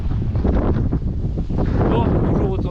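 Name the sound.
strong wind blowing into the microphone at the seaside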